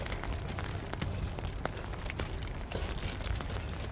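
Heavy rain patters on an umbrella during a downpour, a faint, dense wash of small taps and crackles with scattered louder drops, continuous throughout with no voices.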